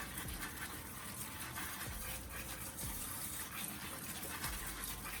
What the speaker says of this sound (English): Now I'm going to water the plant in.